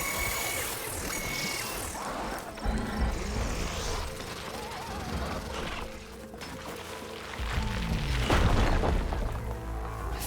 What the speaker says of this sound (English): Fanghorn that breathes fire